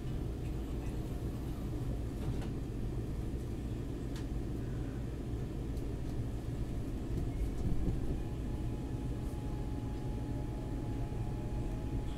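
A SEPTA Market-Frankford Line train rolls along in a steady, continuous low rumble heard from inside the car, with faint rattles and clicks and no talking.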